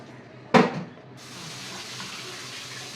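Tap water runs into a sink while fish is rinsed clean, a sharp splash at first and then a steady gushing flow close by, with no voices.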